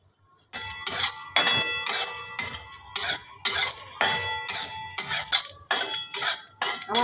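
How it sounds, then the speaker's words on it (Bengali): Dry red chillies, whole cumin and panch phoron five-spice being dry-roasted in a pan for an elephant apple pickle, with a spoon scraping and stirring in a steady, repeated rhythm of close, clinking strokes and no voices. "আমি এটা একটু শুকনো খোলায় ভেজে নিচ্ছি।"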